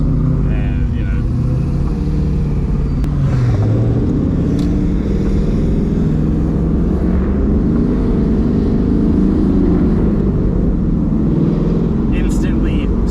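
A 400-horsepower Mazda Miata accelerates with a loud, continuous engine drone and rumble heard from inside the car, while people talk over it throughout.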